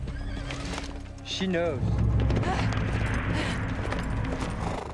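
Horses whinny and neigh loudly with clip-clop hoofbeats in a Joan of Arc film scene, the calls rising and falling over a busy background as a person speaks briefly.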